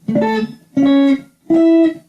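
Guitar playing a solo phrase, three sustained notes picked one after another with a slightly slowed feel, heard alone and fairly loud.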